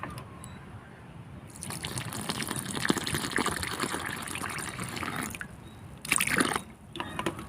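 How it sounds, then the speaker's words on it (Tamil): Water pours steadily into dosa batter in a broad, gushing rush for several seconds, with a brief louder splash near the end and no voices. "தண்ணி மட்டும் கொஞ்சம் எக்ஸஸாக ஊற்றுங்க"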